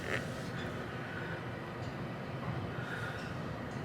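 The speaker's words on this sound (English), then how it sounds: "Nice conveyor." Heard from inside the car, a car wash tunnel conveyor at a Circle K gas station in Las Vegas pulls the vehicle along with a steady mechanical rumble and faint clanks.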